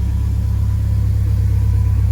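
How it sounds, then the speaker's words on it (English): A low, steady engine rumble hums without change, a vehicle idling close by with no other sounds. "I just started the car to get the water out"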